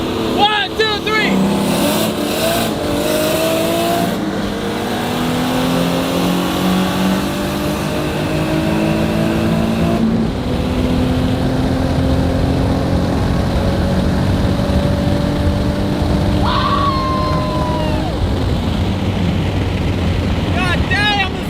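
A Toyota Supra race car pulls hard at full throttle, engine pitch climbing through repeated gear sweeps, loud and close over road and wind noise, with voices talking throughout.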